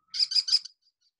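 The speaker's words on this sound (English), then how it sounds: "Let's see what a kestrel sounds like." A quick series of three or four sharp, high-pitched calls from a kestrel, rapid and clear, followed by silence.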